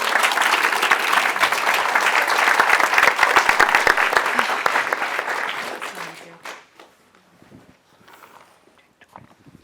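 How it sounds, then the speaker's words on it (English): An audience at a menopause awareness event applauds after a talk, with thick sustained clapping that thins and fades out over several seconds, leaving scattered claps and faint murmurs. "If everyone could give Emma another round of applause"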